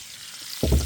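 Potatoes dropped into a very hot pan over a campfire, where onions are already cooking, burst into a loud, close sizzle that starts abruptly after a quiet stretch and holds strong to the end.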